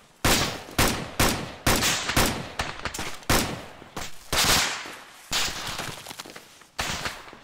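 Rapid bursts of gunfire in the military video game Arma 3, a dozen or so sharp, loud reports in uneven volleys with short gaps, heard alone without talk.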